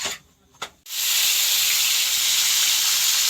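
Steam hisses loudly and continuously from a pressure cooker whistle holding a vegetable curry, a steady broadband rush that starts abruptly after a brief quiet moment with a couple of faint clicks.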